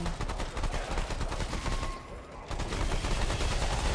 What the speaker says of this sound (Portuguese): eu atirei no cara aqui